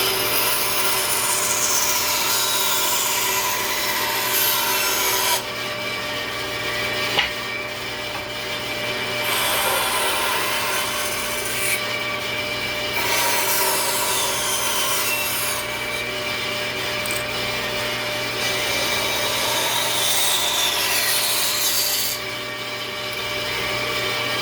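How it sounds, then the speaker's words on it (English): A power saw cuts a heart shape out of wood in a home wood shop, giving a loud, continuous buzzing rasp that rises and falls as the blade follows the curve. "But now I'm going to cut out the heart."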